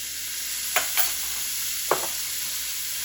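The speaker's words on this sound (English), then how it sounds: "I will let that saute just a couple, 2 minutes maybe" Minced garlic sautéing with vegetables in a pot for a Cajun shrimp and sausage jambalaya, a steady soft sizzle broken by two or three brief scraping stirs, close and alone.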